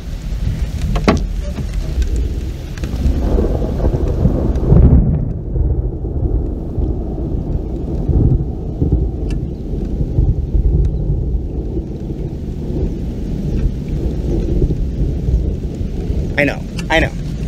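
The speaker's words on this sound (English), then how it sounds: "Being out in the thunder and lightning is stupid" Steady heavy rain pours over a lake in Lake Orion, Michigan during a thunderstorm, with a deep rolling rumble of thunder swelling around the middle and a constant broadband wash of rainfall throughout.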